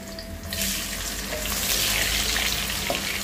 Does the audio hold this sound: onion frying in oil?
yes